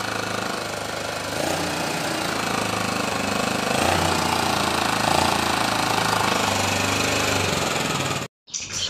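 A Honda Dio scooter engine runs loudly and steadily with a rough, rattling, jackhammer-like chatter that holds for about eight seconds, then cuts out briefly near the end before restarting.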